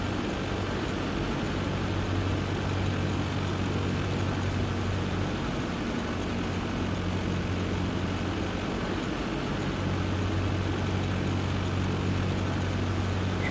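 The propeller engine of an A2A Cessna 172 in flight in the FSX flight simulator gives a steady, loud, broadband drone with a low engine hum that stays constant throughout and no talking.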